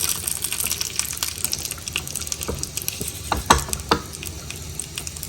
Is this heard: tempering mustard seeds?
yes